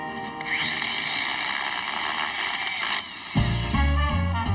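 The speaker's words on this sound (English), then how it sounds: "And you can drive a screw" A power driver whirs at high speed, then bogs down into a lower, labored grind as it drives a screw into pumice concrete, close by.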